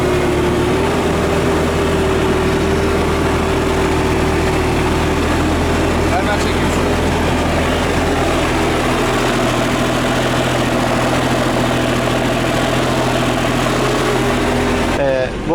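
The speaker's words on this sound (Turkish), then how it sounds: "Egzoz sesini dinletelim." A loud engine exhaust idles steadily and close by, a continuous low rumbling drone with a faint whine that holds unchanged throughout, cutting off abruptly at the end.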